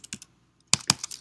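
A computer keyboard is tapped in two quick bursts of keystrokes while code is being deleted, separated by a short pause; the typing is close and crisp.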